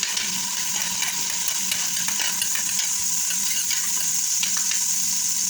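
Garlic and onion sizzle in hot oil in a pan, a loud, steady frying hiss broken by a spoon scraping and stirring, heard close up with no voices.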